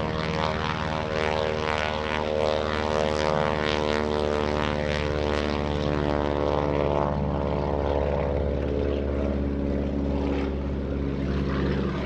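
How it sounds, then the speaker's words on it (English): A 600 horsepower Pratt & Whitney R1340 radial piston engine roars steadily as a propeller plane rolls at an airshow, a loud, dense harmonic drone that holds strong and dips slightly in pitch toward the end, with no voices over it. "Let's listen to the sound of this 600 horsepower Pratt & Whitney R1340 radial piston engine."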